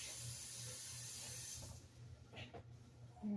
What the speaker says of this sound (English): Let me wash my hands again.